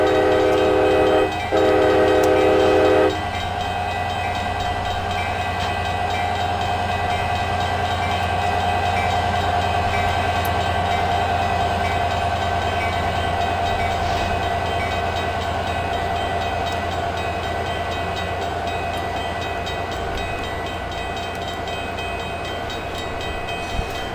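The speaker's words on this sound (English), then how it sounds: "And the ding-dings are up as the train departs for her next stop." In the Open Rails simulator, a Pacific Surfliner train heading to San Diego sounds its horn briefly, then pulls away with a steady engine drone and rail rumble; a high ringing tone continues throughout and no one talks.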